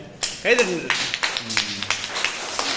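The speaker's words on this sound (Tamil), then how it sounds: "கைதட்டு" Clapping from a small group follows a short spoken phrase at a speech event, a brief patter of claps that continues unevenly to the end.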